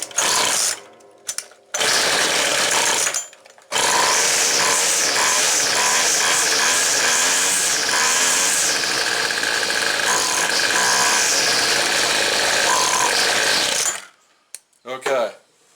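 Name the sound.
two-stroke engine running, bogging down on acceleration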